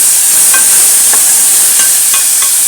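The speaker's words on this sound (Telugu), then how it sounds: "अभी अच्छे से भूनता है, मसाला अच्छा भुनेगा." Ginger-garlic masala and onions frying in a pan, a steady loud sizzle broken by occasional soft scrapes and clicks of stirring, close up with no talking.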